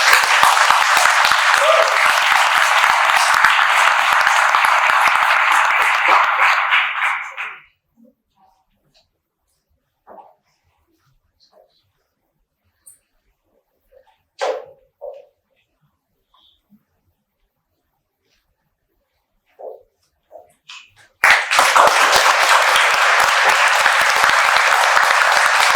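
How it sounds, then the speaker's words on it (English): Ceremony audience applause, loud dense clapping from a large crowd that stops abruptly, leaving a long near-silent stretch with scattered faint noises, then a second burst of full applause returns. "Let's have a round of applause for Renee as she joins us now."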